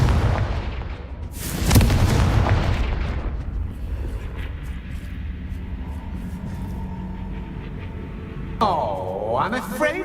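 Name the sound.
Confringo explosion spell from the video game Hogwarts Legacy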